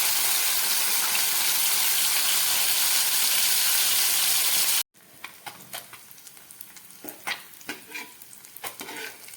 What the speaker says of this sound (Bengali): এই তেলের মধ্যে বাকি মাছগুলো আমি ভেজে নেব